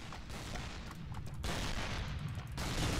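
Gunfire through a wall in the World War II dinosaur shooter Dino D-Day, a dense, continuous rattle of rapid shots with heavy low booms, sustained and loud for several seconds.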